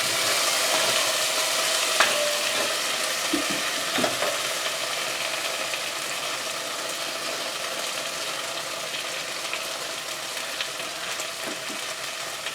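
Szechuan chicken with ground ginger being stirred in a hot pan, a constant loud hissing sizzle with a few scattered knocks and scrapes of the utensil early on, no voices.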